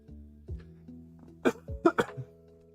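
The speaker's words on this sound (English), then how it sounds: "Pardon me if you heard that cough" A person coughs a few times in quick succession, the loudest bursts close together near the end, over soft background music from a Pokémon HeartGold game.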